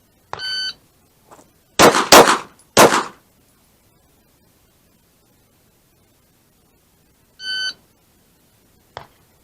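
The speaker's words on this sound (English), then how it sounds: "on the go, we are going to fire 2 shots to center mass, 1 shot to the head" Handgun shots fired at 3 yards in a drill of two shots to center mass and one to the head: a tight, loud burst of three sharp cracks, framed by electronic shot-timer beeps before and after.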